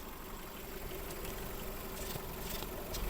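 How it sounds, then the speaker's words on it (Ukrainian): A Skoda Fabia 1.4 engine idles steadily at a low, even rumble throughout, with slight mechanical vibration and no voices. "Робота двигуна."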